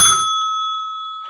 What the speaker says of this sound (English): You may consider them service bells, but the service they provide us is to end a scene